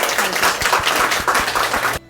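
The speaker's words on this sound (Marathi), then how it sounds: "एकदा जोरदार टाळ्या करूया" Students clap together in a makeup and hairstyle class, a brisk and fairly loud burst of hand claps that stops abruptly after about two seconds.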